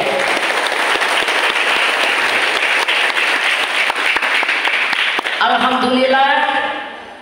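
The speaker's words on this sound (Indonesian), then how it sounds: "Tepuk tangan untuk TPG Al-Hidayah." An audience at a speech event gives steady, dense applause for several seconds, close and loud, which fades out as a voice starts speaking near the end.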